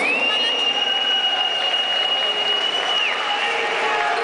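Applause from an audience at a Corinthians singing contest final, a steady wash of clapping with crowd noise and a sustained tone running over it.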